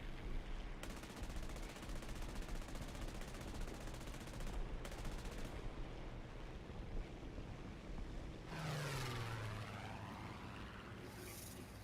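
An aircraft gun in a video game fires in long rattling automatic bursts under constant engine drone, followed by a falling whine as something passes overhead.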